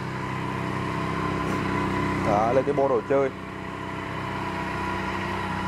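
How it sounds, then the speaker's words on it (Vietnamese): A Benelli 302S twin-cylinder motorcycle from 2016 with its stock exhaust idles with a low, steady, fairly quiet hum, while someone talks briefly over it in the middle. "Nó vẫn đang giữ bồ hơi zin nên mà tiếng máy nghe thì thầm lắm."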